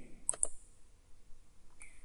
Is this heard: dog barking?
no